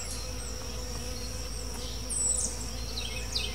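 Honey bees hum steadily close by around a hive with a low droning buzz, and a few individual bees zip past briefly.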